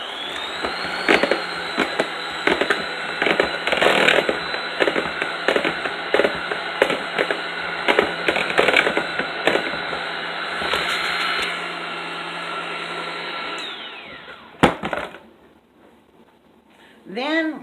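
A mixer whirs continuously for several seconds, beating keto chocolate chip cookie dough with sweetener and brown sugar in a mixing bowl, with sharp rattles and knocks breaking through before the motor winds down and stops.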